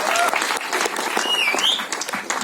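An audience at a film trailer launch press meet claps loudly and continuously, with a whistle or two over the applause.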